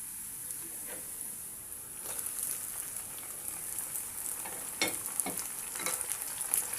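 Chopped tomato goes into onions already frying for a prawn curry, giving a fairly quiet, rain-like sizzle with scattered stirring knocks and crackles, no speech over it.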